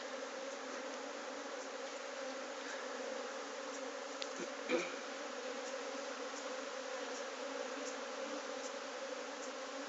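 A steady, dense drone of many honeybees buzzing around an open hive at a honey farm, continuous and fairly quiet throughout with no talking.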